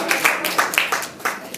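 A church congregation claps in quick, uneven bursts of several hands, fairly close and lively, lasting under two seconds with a voice faintly mixed in.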